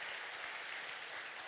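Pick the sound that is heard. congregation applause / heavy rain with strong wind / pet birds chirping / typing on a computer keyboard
congregation applause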